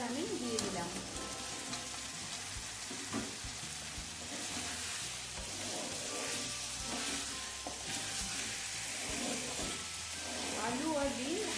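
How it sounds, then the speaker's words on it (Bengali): Eggs and potatoes fry in spice masala for egg curry, a continuous crackling sizzle with occasional stirring scrapes in the pan, close and steady throughout. "আলু আর ডিম ভালো করে মশলার সাথে কষে নিলাম।"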